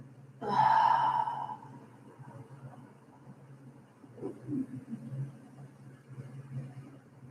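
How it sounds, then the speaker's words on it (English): A deep breath in and out during a ten-minute Ho'oponopono meditation, a loud close sigh-like exhale followed by quieter, softer breathing against a low background hum. "Let's take a nice deep breath in 3 times, okay?"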